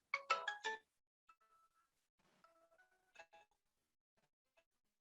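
A mobile phone ringtone plays a short electronic melody: a loud burst of bright chime notes at the start, then softer scattered tones and a second brief flurry, heard alone in an otherwise quiet room.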